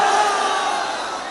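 A large crowd roars a loud, unified slogan shout at a religious gathering, a dense sustained wall of voices that holds strong and fades slightly toward the end.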